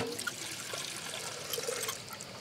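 Water pouring or refilling in the gardening game Garden Life, a steady soft splashing trickle running throughout at low level with no talk.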